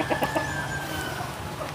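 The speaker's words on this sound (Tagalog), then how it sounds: "pag may ingay na daw po ang mga sisiw, naghihingi na daw po ng pagkain" Hungry chicks peep and cheep for food in a busy cluster of calls at the start, then settle into a softer, steady chatter against background noise.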